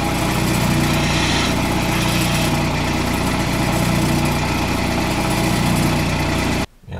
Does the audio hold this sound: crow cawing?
no